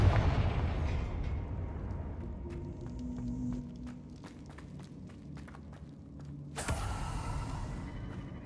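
A Confringo blasting spell goes off in Hogwarts Legacy, a sudden bright burst late on over a steady low rumble of game ambience with scattered creaks and ticks.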